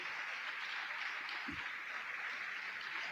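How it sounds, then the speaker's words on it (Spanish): A church congregation applauding during a sermon, a soft, even wash of clapping heard from a distance and holding steady throughout, with a brief low thump partway through. "Eso creo que merece un aplauso al Señor."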